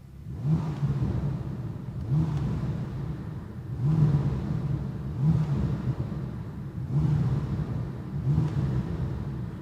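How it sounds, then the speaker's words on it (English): A Bentley Continental GT W12 Mulliner's 12-cylinder engine revs repeatedly in sport mode, about six rising bursts in a steady rhythm, deep and throaty up close with no talking. "So we have a better sounding 12-cylinder here."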